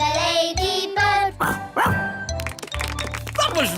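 A cartoon ladybird barks like a dog in a series of yappy barks and yips, close and loud, with a voice imitating the barking and others talking around it.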